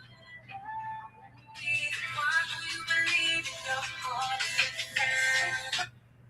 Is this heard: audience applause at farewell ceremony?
no